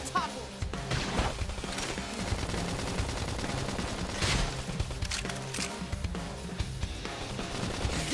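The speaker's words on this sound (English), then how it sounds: "Now fire away and topple it!" Rapid gunfire in the Xenoblade Chronicles X battle, dense bursts of shots and impacts layered over game music, with voices talking during the fight.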